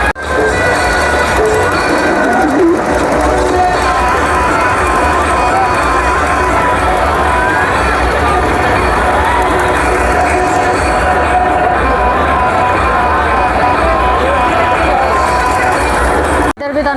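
A Shivratri fair crowd at Gagan Ji Da Tilla, with long lines of worshippers, makes a loud, continuous, close wash of many voices and bustle that stays dense throughout.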